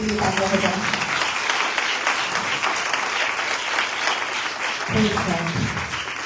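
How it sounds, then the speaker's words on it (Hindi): A church congregation breaks into loud, sustained applause for Jesus, with a voice speaking over the clapping at the start and again near the end. "आइए उस जिंदा खुदा के लिए उस यीशु मसीह के लिए तालियां बजाएं।"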